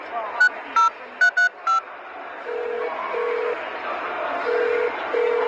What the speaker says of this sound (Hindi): रुको, मैं ही डायल कर देती हूँ, मेरे फोन में है उनका नंबर।